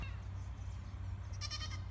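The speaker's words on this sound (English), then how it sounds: "Look at the little goats. They're trying to talk to me." Small goats bleat outdoors near a lawn, with one short wavering bleat rising over a steady low hum and background noise.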